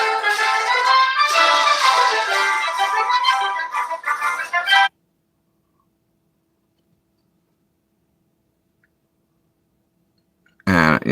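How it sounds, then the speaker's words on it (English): A phone ringing with a bright, repeating tonal ringtone that plays loudly for about five seconds, falls silent, then starts again briefly at the end. "You guys hear that ringing?"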